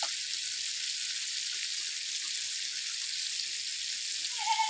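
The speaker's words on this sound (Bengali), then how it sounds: "পেঁয়াজটা ভেজে নেবো" Chopped onion fries in a pan, giving a steady bright sizzle that holds evenly throughout, close and moderately loud, with no voices over it.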